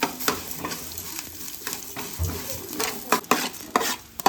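Greens and coriander frying in oil, a steady close sizzle broken by sharp scraping and clinking as a spoon stirs the pan, with no voices.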